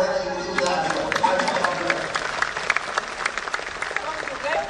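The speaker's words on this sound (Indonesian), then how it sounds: "Tepuk tangan dulu" A studio audience at a televised talk show applauds, producing dense continuous clapping with some crowd noise and a voice speaking over it throughout.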